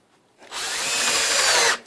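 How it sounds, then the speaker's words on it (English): A power drill drives a small jamb liner screw into the corner of a window retainer, one steady whirring run lasting over a second, close and fairly loud with no talk. "Put my small jam liner screws into the corner of the retainer."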